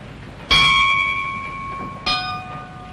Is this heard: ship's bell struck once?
yes